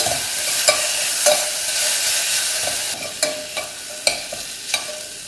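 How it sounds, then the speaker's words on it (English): Chopped tomatoes cook down in a pan for South Indian uppuma, a steady close sizzle with a spoon clacking and scraping against the pan at irregular intervals, no talking. "we'll cook the tomatoes down for 1 minute"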